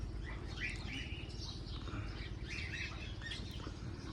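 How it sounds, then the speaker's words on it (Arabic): Pigeons on a bird farm chirp and call steadily with occasional wing flaps over a constant low hum, all fairly close and unbroken by talk. "شوف الحمام الله"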